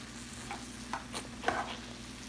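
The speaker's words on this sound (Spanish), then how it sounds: "lo que voy a hacer es asar el nopal" Nopal cactus pads roasting in a pan give a quiet, steady sizzle with a few soft scrapes and light taps from stirring, close by and low in level.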